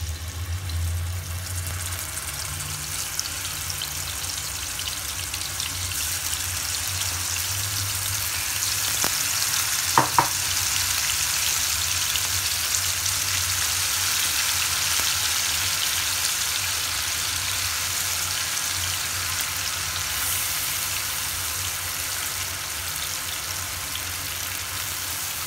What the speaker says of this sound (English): Let them fry for a while.